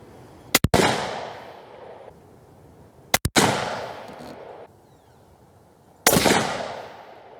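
Rifle fired at a target in groups outdoors: loud, sharp gunshots in three bursts, two quick cracks together, then two more, then one, each trailing a long decaying rumble across open ground.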